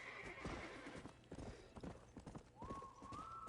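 Horse hooves clip-clop at a quick gallop in Red Dead Redemption, loud and close, with a whinny rising near the end.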